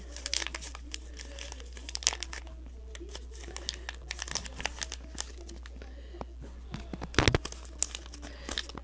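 Plastic packaging on mini brand toys is ripped open close by, making sharp, irregular crinkles and tearing crackles in scattered bursts, with a louder cluster of rips near the end.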